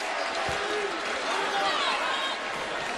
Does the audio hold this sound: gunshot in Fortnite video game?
no